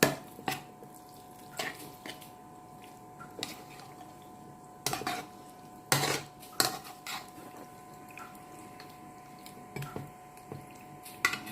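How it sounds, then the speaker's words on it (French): Chicken is mixed with seasonings and other ingredients in a bowl for homemade tacos, giving soft wet squishes and occasional sharp knocks of a utensil against the bowl at an irregular pace, close and fairly quiet. "On va mélanger avec le poulet. Tous ces ingrédients qu'on a mis dans le poulet."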